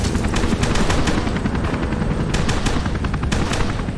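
Pistol fire in the video game F.E.A.R. 2, a rapid string of sharp shots in quick succession, loud and close over a steady background rumble with no talking.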